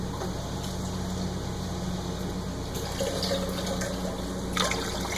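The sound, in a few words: pouring a cup of water into a jar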